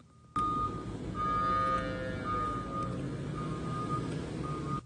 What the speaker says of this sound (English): It's the backup alarm you hear in my videos sometimes.